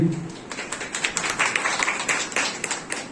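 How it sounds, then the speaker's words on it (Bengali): Applause at a Barsa Mongal monsoon festival gathering, a brief burst of many hands clapping in a hall, moderately loud and steady, following a short moment of a voice at the start. "একবার ওর জন্য জোরে হাততালি।"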